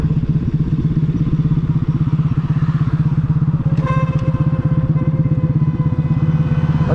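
A Romet Ogar moped ridden at speed, its small engine buzzing loud and constant with rapid pulsing throughout, joined by wind rush and brief rattling clatter.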